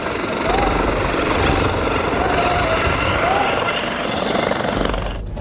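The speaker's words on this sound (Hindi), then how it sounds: "यह हेलीकॉप्टर आप देख रहे हैं बसपा अध्यक्ष मायावती का।" Helicopter carrying BSP president Mayawati arrives, its rotor and engine a loud continuous roar with steady chop throughout, a voice faintly audible beneath.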